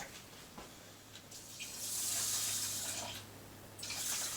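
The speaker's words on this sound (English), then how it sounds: "Now we just have to add water." Tap water runs into a pot of rice for pineapple fried rice, a faint steady gush that swells louder in the middle and again near the end, with no talking.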